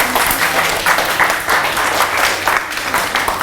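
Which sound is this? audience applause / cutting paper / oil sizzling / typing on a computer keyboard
audience applause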